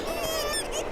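Seabirds call on the Scottish coast, a single loud, nasal honking cry close by, lasting about a second.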